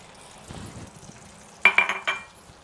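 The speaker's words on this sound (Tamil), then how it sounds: "அந்த நெய் உருகுன உடனே இந்த கோதுமை மாவு போட்டுக்கணுங்க" Wheat flour is stirred into melted ghee in a pan for laddu, giving a soft sizzle and scraping, then a quick run of four sharp metallic clinks from a spoon against the pan.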